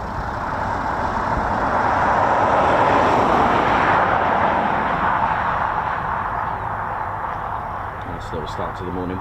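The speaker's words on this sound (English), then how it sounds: "We've got LF363 still airborne, which is the Hurricane" A Hawker Hurricane, LF363 of the Battle of Britain Memorial Flight, flies past at RAF Coningsby, its loud, continuous piston-engine drone swelling and then slowly easing away.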